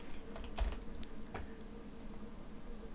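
Soft typing on a computer keyboard, a few quiet keystrokes in quick succession over a steady low background hum.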